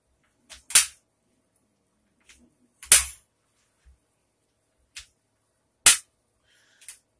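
A stiff latch on a military-surplus bore cleaning kit snaps sharply several times, loud isolated cracks spaced a second or two apart with near-silence between, close by.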